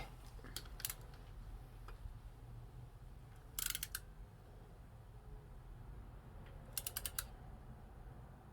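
A torque wrench ratchets as it tightens a primary cover screw on a 2004 Harley-Davidson Dyna FXDI. Three short bursts of rapid metallic clicks ring close and quiet against a faint hum, with no one speaking.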